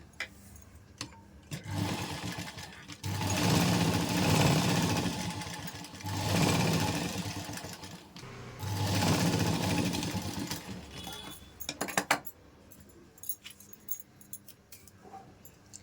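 A sewing machine stitches piping made from saree cloth in bursts of about two seconds each, loud and close, separated by short pauses with small clicks and handling noises.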